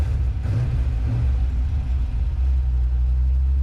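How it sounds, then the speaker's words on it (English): A Chevelle with a 370 LS V8 idles steadily with a deep, continuous low rumble, close by and even in level throughout. "it's idling nice, air fuel's good."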